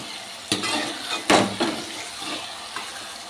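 Crushed garlic cooking in oil in a pan for baked okra bajji, a low sizzle broken by a few sharp clattering stirs, close and moderately quiet, no talking.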